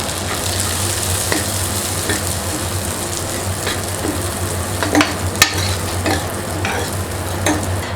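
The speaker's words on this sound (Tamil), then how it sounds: "இதை வந்து நம்ம மீடியம் ஃப்ளேமில் வச்சு லைட்டாக வறுத்துக்கலாம்." Red rice flakes (samba aval) dry-roast in a pan over a medium flame, giving a steady close rustle with frequent scraping stir strokes and light crackles over a low background hum.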